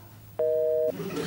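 A phone busy tone sounds after a call is hung up: one steady electronic beep lasting about half a second, loud and clear over faint room noise.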